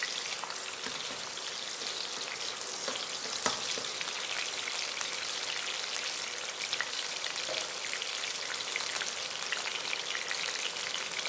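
Cauliflower florets frying lightly in hot oil, a steady crackling sizzle with scattered pops, fairly quiet and close, with no talking.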